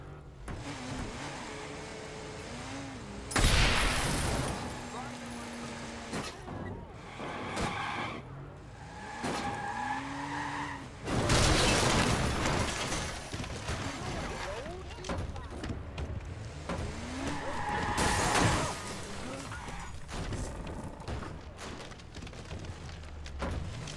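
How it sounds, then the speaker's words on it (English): A car in the Watch Dogs video game drives and crashes, with engine roar, tire noise and skids rising and falling, plus a few loud impact bursts. "I find this beautiful blue car and I make a vow as I entered it to never crash it and to never harm it"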